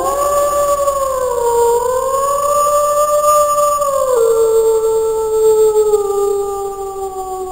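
A wolf gives one long, loud, unbroken howl that slides slowly in pitch, close and clear with nothing else heard.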